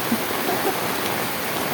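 Heavy typhoon rain pours in a steady, dense hiss that stays constant and close, with no voices over it.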